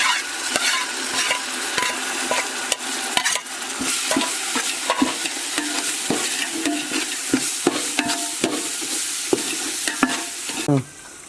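Ginger garlic paste frying with onions in hot oil for egg biryani, cooked outdoors on a balcony: steady loud sizzling and crackling throughout, with frequent scraping clicks of a spoon stirring the pan, no talk.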